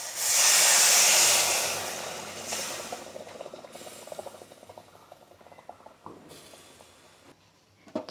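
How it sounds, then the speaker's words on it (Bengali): Water poured into a pan of roasted semolina with raisins, salt and turmeric hits with a loud, close burst of hissing sizzle that fades into quieter bubbling and a few light scrapes. "এবার আমি এতে দিয়ে দেব পরিমাণ মতো জল।"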